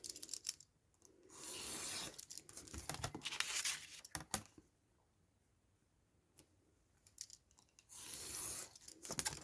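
Scissors snip away small white paper bits while making journal pockets at a craft table, a close run of crisp cuts and rustling paper in several bursts separated by quiet pauses, with no talking.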